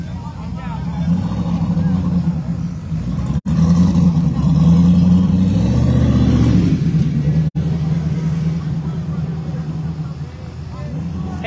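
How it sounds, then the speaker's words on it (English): A grudge race car's engine idles and revs in a loud, continuous low rumble with a rising surge in the middle, briefly cut twice, while people talk over it. "Listen to him snorting that motor."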